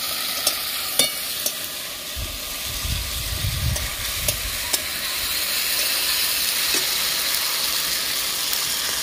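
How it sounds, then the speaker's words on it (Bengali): Ginger paste is sautéed in a pan for a vegetarian papad curry, giving a soft frying hiss with sharp clicks and scrapes of a spoon, and a low rumbling stretch midway. "দিয়ে আদাটাকে ভালোভাবে কষিয়ে নেব"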